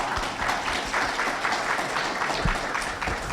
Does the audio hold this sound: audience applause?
yes